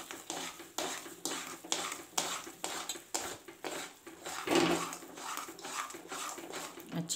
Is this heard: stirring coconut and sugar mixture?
yes